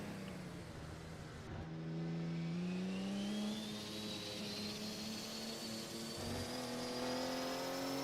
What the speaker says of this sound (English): the engine note sounds a little bit higher than I heard from before with Liam